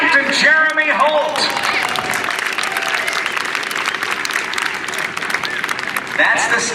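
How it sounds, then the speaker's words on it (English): At a 2013 Lake Charles airshow, an outdoor crowd applauds the pilot of a Skybolt biplane, steady clapping from many hands with an announcer's voice over the start and end. "A big round of applause for Captain Jeremy Holt."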